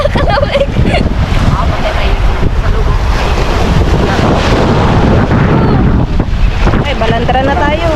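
Ocean waves slap and crash against a small boat at sea, with strong wind buffeting the microphone; the rush of water and wind is loud and continuous, and a few voices call out over it.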